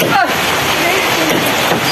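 Heavy rain pours down on a construction site where a concrete slab is being formed with plywood, a loud steady hiss of falling water close by, with brief shouts and voices mixed in.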